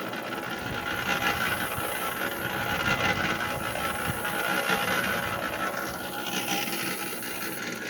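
A machine mixing garden soil runs with a steady, continuous churning rumble and gritty rasp, close and fairly loud the whole time, with no talking.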